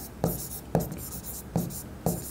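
A pen writes on paper in four quick, distinct strokes spaced roughly half a second apart, each a short close scratch with a crisp attack over a quiet background.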